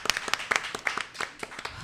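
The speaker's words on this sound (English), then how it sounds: "Can we please just give a heartfelt round of applause to all of our guests?" An audience applauding guests at a performing-arts event, a short burst of scattered, uneven hand claps close by with a voice faintly underneath.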